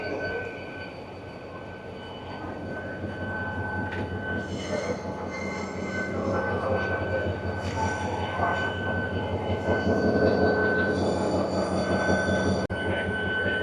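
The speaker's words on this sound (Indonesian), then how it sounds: "Ini dia keretanya teman-teman, AZPP, kereta dengan tujuan akhir di Split." An HŽPP night train bound for Split rumbles steadily nearby with rhythmic wheel clatter and occasional high squeals, growing slightly louder as it moves through the station.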